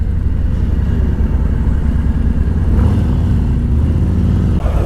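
A heavy 950-pound police motorcycle engine idles and rumbles steadily up close, a deep continuous throb with a slight rise in revs partway through.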